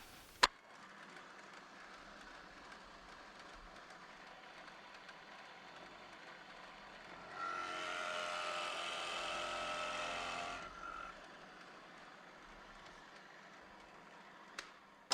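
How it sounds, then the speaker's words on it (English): A drill spins a Forstner bit into a wooden post in one steady burst of about three seconds, fairly close and alone, between quiet stretches with a sharp tap at each end. "why do I drill the Forstner bit hole first?"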